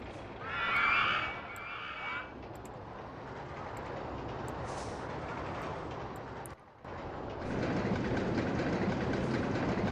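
A roller coaster train climbs a spiral lift in the theme park game OpenRCT2, a steady rumbling clatter of wheels on track with a short burst of high whirring early on and a brief dropout before the rumble swells again.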